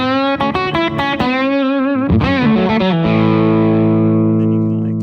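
A Fender Vintera II Road Worn electric guitar plays through a distortion effect, producing growly, mid-heavy picked notes and bends that give way to a long, thick sustained chord ringing out.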